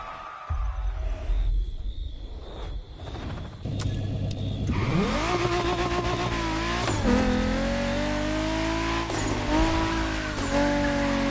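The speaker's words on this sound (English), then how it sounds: "This was the F50, a sports car that screams performance and racing spirit with every fiber of its being." Ferrari F50 sports car engine in The Crew Motorfest, revving up and holding a loud, rising roar with gear-shift dips and brief tire squeal, continuous and close with no talk.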